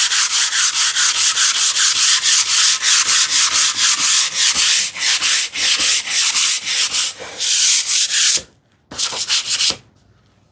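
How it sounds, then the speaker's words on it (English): A cheap sanding block rubs back and forth along a wooden TV unit by hand, a rapid, rhythmic, loud scratchy rasp of repeated strokes that briefly stops and resumes near the end, with no voices. "I had once like invested in this cheap like sanding block, so I will just use that"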